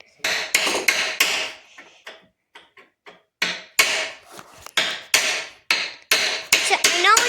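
A small hammer striking repeatedly while a 100+ year old sled is repaired, sharp close knocks in irregular clusters, some rapid runs and some single blows, with quiet gaps between.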